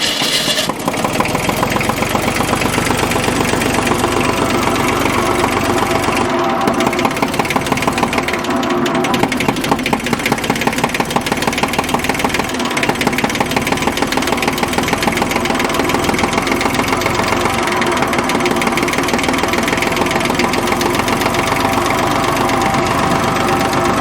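An old diesel compactor, repaired after more than twenty years unused, cranks and catches, then settles into a loud, rough, knocking idle that chugs steadily and close for the rest of the stretch.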